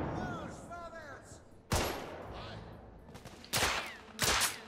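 Heavy gunfire in the video game The Order: 1886 erupts in three loud, sharp bursts against a low battle din, with a brief voice early on.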